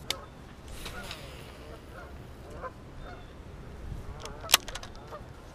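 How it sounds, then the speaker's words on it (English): A flock of geese on a lake honks in scattered, fairly distant calls over a low outdoor rumble, with one sharp, loud click-like burst near the end. "this lake is usually pretty fire over here, but with all these geese, look at all these things"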